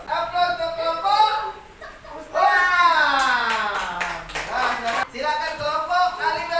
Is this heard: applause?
yes